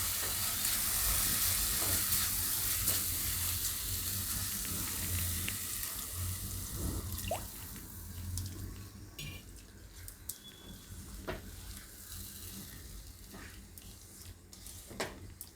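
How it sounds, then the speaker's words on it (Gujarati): Noodles sizzle and fry in a pan while being stirred, a steady loud hiss at first that eases off, with scattered clinks of the utensil against the pan. "નૂડલ્સમાં ફેરવતું રહેવાનું એમ."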